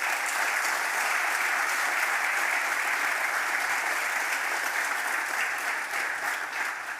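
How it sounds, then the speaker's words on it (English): A conference room audience at a rail data forum applauds steadily, a dense sustained clapping that holds for several seconds before starting to fade. "an applause to all the contributors"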